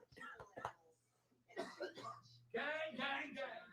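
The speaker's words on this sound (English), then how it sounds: "Coughing my fucking brains out." A man coughs and clears his throat in short, harsh bursts up close, mixed with speech.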